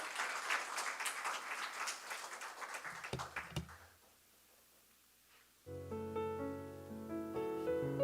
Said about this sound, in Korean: 미리 크게 한번 박수하겠습니다.